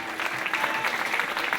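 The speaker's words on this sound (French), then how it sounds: "Votre applaudissement pour monsieur Johnny Fayad, Laurent Lacroix, Patrick Lavenu." Applause from the audience at the 2013 OFAC motorsport awards ceremony, honouring Super Buggy division drivers, rising as a steady, dense wash of many hands clapping without voices.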